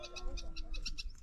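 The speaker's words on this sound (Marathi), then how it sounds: "चिमणी का पुढं बघत आहे." Sparrow chirping outdoors near a hilltop temple route, a string of short bright chirps repeating steadily over about a second, fairly close, under low background rumble and faint voices.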